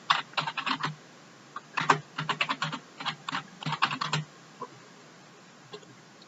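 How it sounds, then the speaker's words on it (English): Someone types a password on a computer keyboard while installing Windows XP Professional in VirtualBox, giving rapid bursts of clicky keystrokes in uneven clusters for about four seconds, then a few isolated taps before quiet. "I'm going to type in a password"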